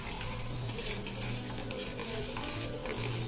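Freshly caught pond fish in a bowl being stirred by hand with coarse rock salt, a soft continuous wet scraping and grainy churning, faint and close with no talk.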